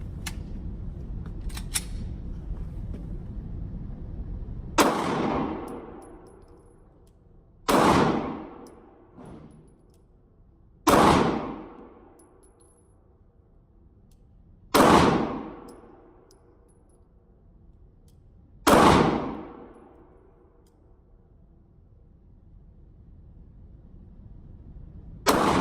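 Glock 43 pistol fitted with a Monark trigger fired at a range: five sharp, loud gunshots spaced a few seconds apart, each ringing out with a short echo, with no talk.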